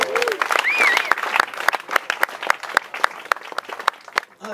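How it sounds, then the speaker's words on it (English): Sustained audience applause at a Democratic club's annual summer celebration, a dense crowd of hands clapping steadily for several seconds, with a brief whistle near the start and the clapping thinning toward the end. "Give him a big round of applause."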